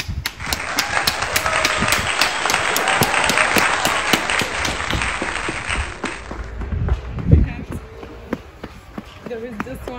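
People on a city street clap for COVID frontliners, a dense spread of applause with sharp individual claps standing out nearby, and voices talking throughout.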